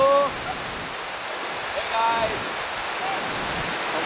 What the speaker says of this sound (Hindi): आम टाणकनार वाटरफॉल बोलसन तो पानी ओवरफ्लो हो गला टाणा डैम रो